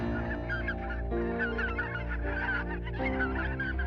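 Ducks, geese and other waterfowl in the Grande Brière marsh, a dense, continuous chorus of honking and quacking calls with steady level throughout, no talk.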